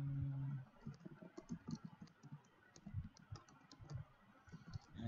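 Quiet keystrokes on a computer keyboard as a command is typed, a quick irregular run of soft clicks, close and faint, with a brief low hum at the start.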